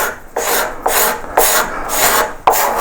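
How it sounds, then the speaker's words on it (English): A finer rasp files a wooden Hepworth-style sculpture at the finishing stage, with five or six close, loud, rhythmic scraping strokes and no voices. "Finer rasps, it'll be finer rasps just as before"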